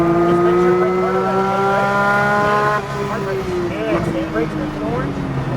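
A Porsche 911 GT3 on the oval at Nashville Super Speedway, its engine holding a loud steady drone with rising harmonics, then easing and shifting pitch as it brakes and changes gear, with an instructor talking over it.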